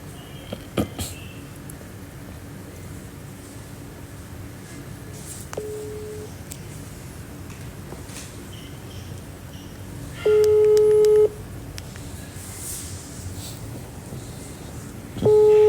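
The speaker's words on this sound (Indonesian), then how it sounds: "Coba gue telepon Mimi gue ya" Telephone keypad tones sound faintly at first, then two loud steady electronic beeps of a call signal stand out over low background murmur, the second cut off at the end.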